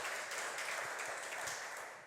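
A congregation claps for Jesus as King during a church teaching, heard as a soft, continuous patter of many hands. It stays even throughout and fades slightly at the end.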